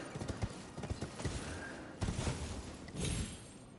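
Horse hooves clip-clopping in the video game Elden Ring, a quick rhythmic run of thudding hoofbeats in bursts, moderately close, with no talking over them.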